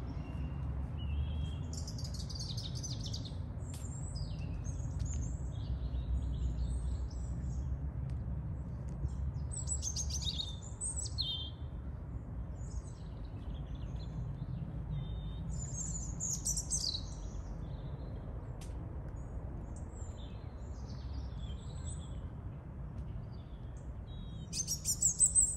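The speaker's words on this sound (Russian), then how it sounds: "я специально чуть-чуть помолчал, чтобы послушали птичек" Birds sing in a park in Lazarevskoye, Sochi, in November: scattered high chirps and short song phrases come and go over a low, steady background rumble, with no talking.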